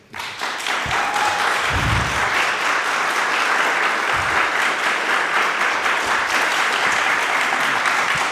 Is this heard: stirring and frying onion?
no